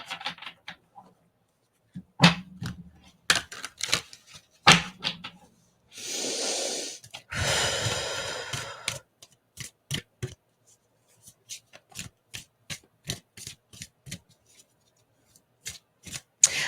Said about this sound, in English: I'm now going to pull some Archangel Power Tarot cards